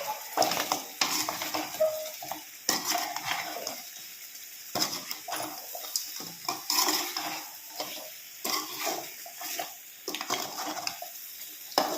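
A spoon stirs goat head curry fry with curry leaves in a pan, giving soft scraping and clinking strokes in irregular bursts with faint sizzling between them, close and fairly quiet.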